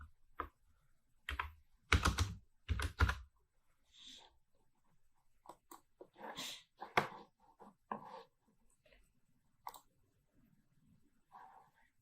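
Keys clatter on a computer keyboard as a password is entered during a CentOS Linux installation, in short irregular bursts of clicks, a few louder thumps among softer taps, quiet and close in an otherwise silent room.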